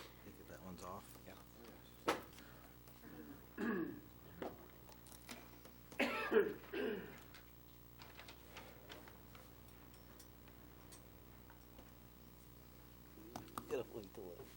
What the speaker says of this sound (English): Just can't shake this cough.